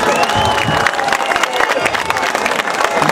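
An audience claps at a concertina performance, a steady burst of dense applause mixed with crowd noise and scattered voices.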